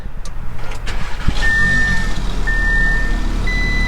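A car engine cranks and catches, settling into a steady idle, while a few electronic beeps chime from the dashboard.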